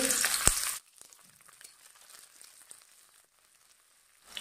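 Garlic, onion and ginger drop into hot mustard oil for a mangur fish curry, a loud burst of sizzling that cuts off abruptly, followed by faint, sparse crackling.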